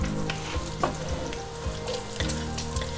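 Bacon and onions fry in a pan with a strong, continuous close sizzle and crackle, punctuated by a few soft stirring knocks, with no voice over it.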